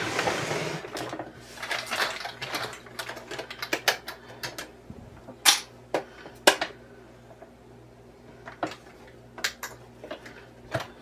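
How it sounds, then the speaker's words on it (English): A sewing machine stitching a Christmas tree quilt block potholder: bursts of rapid mechanical clatter from the needle, with pauses and sharp clicks in between, close and moderately loud, no speech. "So let's get to sewing so we can finish this project."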